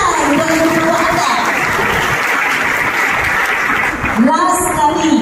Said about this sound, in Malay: Berikan tepukan kepada ibu bapa anda.